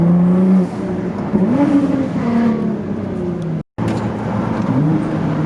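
Tuned Nissan GT-R with turbo upgrades accelerating hard, engine note rising and falling through gear changes, loud and close, with a brief drop-out midway before the roar resumes.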